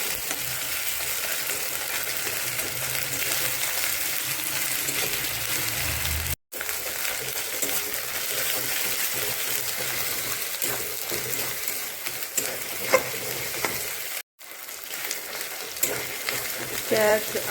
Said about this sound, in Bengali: এখন এই মশলাটা ভালো করে ভেজে নেব।